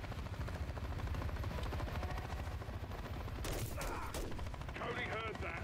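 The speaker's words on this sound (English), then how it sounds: "It's a gunshot." In a Call of Duty: Modern Warfare 3 match there is steady gunfire and a helicopter-like rumble throughout, with a sharper burst of shots near the end.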